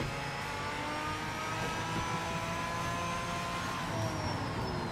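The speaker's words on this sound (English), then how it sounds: "This car does sound pretty good" A race car engine in the video game Project Motor Racing drones steadily throughout, its pitch holding high with slight rises, loud and continuous with no talking.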